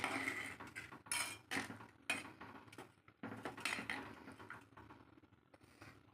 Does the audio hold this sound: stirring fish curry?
yes